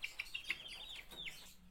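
A chicken clucks in a short run of faint, close, high-pitched calls over about two seconds, with no talk.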